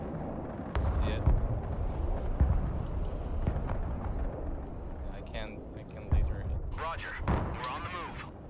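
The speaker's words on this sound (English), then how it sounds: "MLRS inbound on something." MLRS rocket artillery in the game Broken Arrow fires in a series of sharp booming launches and distant explosions, scattered irregularly across the moment, with a voice talking over them and some whistling effects near the end.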